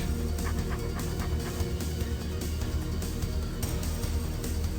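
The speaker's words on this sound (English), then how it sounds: "Oh, it's the dog." A dog pants and whimpers in the survival-horror video game Deep Fear, a steady, close breathy panting with soft whines running through the whole stretch over dense background game audio.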